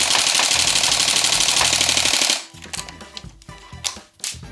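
A Tokyo Marui G36C NGRS airsoft gun fires full auto in a rapid, even mechanical rattle for about two seconds, then stops, leaving scattered clicks and handling noises.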